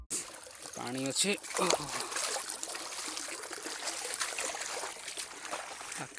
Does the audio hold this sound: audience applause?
no